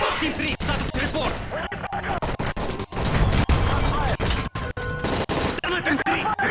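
Rapid bursts of gunfire crack repeatedly in a Modern Warfare 3 plane hijacking scene, sharp close shots over shouting voices and dense action noise.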